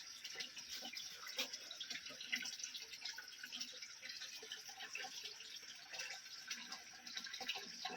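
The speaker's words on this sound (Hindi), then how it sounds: "देख सकते हैं कितनी नीचे से यहाँ पर नीचे पानी आ रहा है" Spring water trickles out between stones in a Chitrakoot forest, a faint, close, steady babble with small irregular splashes and drips and no voices.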